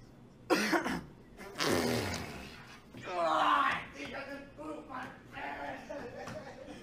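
A person coughs and clears their throat amid laughter and chatter during a tense laugh challenge, with sharp bursts followed by voices talking nearby.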